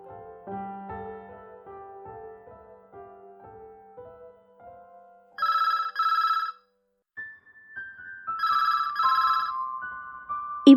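Telephone ringtone chiming in two short bursts of bright electronic tones, following a soft melodic musical passage, fairly quiet with gaps between rings.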